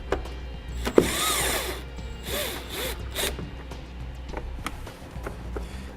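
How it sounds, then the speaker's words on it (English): A 10mm socket on a ratchet removing taillight bolts: close, intermittent clicking and ratcheting with short metallic scrapes and handling noise, no talk. "I'm going to grab a 10mm socket and pull those out."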